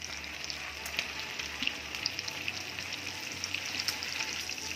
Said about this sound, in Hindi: इसी तरह हम सारी टिक्कियाँ फ्राई करेंगे।